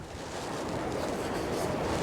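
Steady roaring wind buffeting the microphone at the shore in Cowes, Australia, mixed with a broad surf-like wash, constant and fairly loud with no voices.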